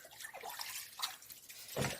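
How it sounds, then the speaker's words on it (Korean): Running water from a kitchen tap while dishes and cooking utensils are rinsed, a faint, uneven splashing and trickling with brief drips, heard alone. "조리기구나 그릇을 씻고 헹굴 때 그때그때 수도꼭지를 잠급니다"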